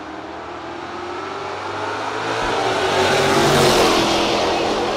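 Ford Mustang and Chevrolet Camaro launching side by side at a drag strip, a loud broadband engine roar that swells and builds as the cars accelerate away, with no talk over it.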